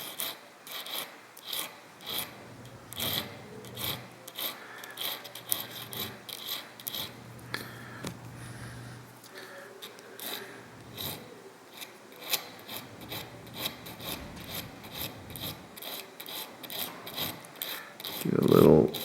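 A diamond file rasps steadily against a carbide cutting tool during hand sharpening, rapid repeated strokes close to the microphone, with a brief louder scrape at the end.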